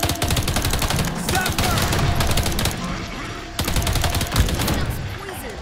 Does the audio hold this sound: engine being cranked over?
no